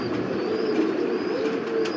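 Fancy pigeons in a pigeon house coo steadily with low, throaty, rolling calls, close and continuous, with no talking over them.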